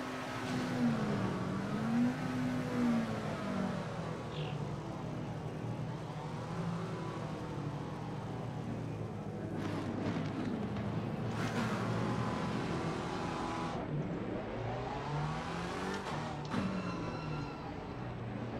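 Race car engines at the start of an Assetto Corsa Competition race, a dense roar of many engines with rising and falling revs and gear shifts, steady and loud throughout.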